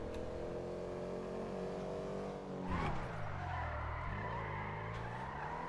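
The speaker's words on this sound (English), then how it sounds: "I think I just heard my car." A car in GTA V roleplay revs with a droning engine and skids into a long tire squeal, pitch sweeping down then up as it swerves, moderately distant and steady, with no talk.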